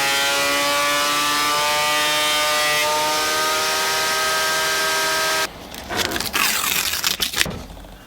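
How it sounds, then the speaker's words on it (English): A bandsaw roughly trims away excess wood: a loud, steady whining drone with clear tonal hum for several seconds, then shifts into rougher, noisier grinding and rasping as the blade bites through the board. "roughly cut the excess away on the bandsaw"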